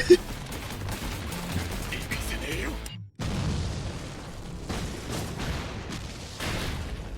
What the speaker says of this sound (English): Shoot through the explosion.